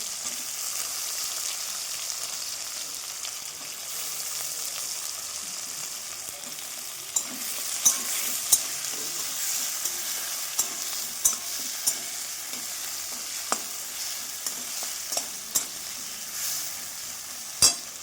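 Onion, tomato and capsicum sizzle steadily in a hot pan, a continuous hiss with occasional sharp clicks and scrapes of stirring, close and moderately loud with no voices.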